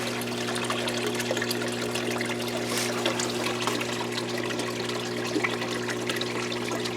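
Water trickles and gurgles steadily through a drain in a winter greenhouse over a low constant hum, a continuous wet flow with no voices.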